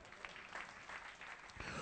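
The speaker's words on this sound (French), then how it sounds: "Applaudissez Jésus-Christ." Congregation applauding at a French-language evangelical church service, a dense, steady wash of clapping that fills the whole stretch at moderate loudness with no clear pauses.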